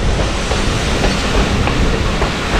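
Kohat Express passenger train running near Bisal Junction in Pakistan, a loud continuous roar of wheels and carriage rumble with faint rhythmic clatter, heard from inside without talk.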